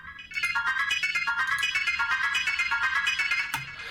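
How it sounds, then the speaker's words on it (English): Bright pitched-up synth stab from a tech house track, effects stripped off, repeating in quick rhythmic pulses for about three seconds, fairly loud and alone before cutting off. "It's that stab sample that's just been pitched up."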